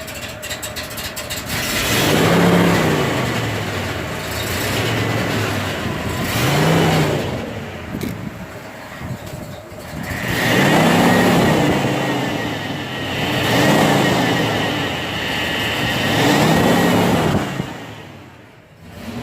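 A 1984 Ford F250 4x4 with a 7.5L V8, revived after five years of sitting, idles roughly and revs up in several loud, rising throttle blips spread across the recording, settling back to idle between each.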